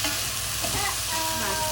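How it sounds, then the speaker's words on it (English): Liquid with fish sauce sizzles steadily in a hot pan, with a constant frying hiss and some stirring, close and moderately loud. "Hear that sizzle from the liquid,"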